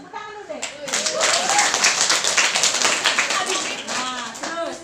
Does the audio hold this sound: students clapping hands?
yes